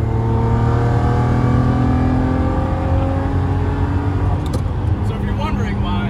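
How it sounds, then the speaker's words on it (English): A manual Lamborghini Murcielago V12 engine holds a loud, steady, tonal drone with slowly shifting pitch as it revs, close and continuous throughout. "So if you're wondering why manual Murcielagos are triple the price of an auto, just listen."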